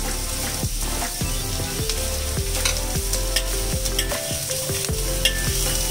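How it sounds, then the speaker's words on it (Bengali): Vegetables, carrot among them, fry in a pan for Maggi Bangkok sweet chili noodles, a constant hiss broken by repeated regular scrapes of a spatula, close and without voices. "ভেজিটেবল গুলোকে ভালোভাবে ভেজে নিতে হবে"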